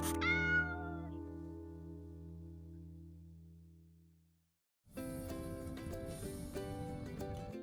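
A cat at a cat garden in Mae Wang district, Chiang Mai, gives a long, drawn-out meow that slowly fades, followed by a busier mix of louder, noisier sound.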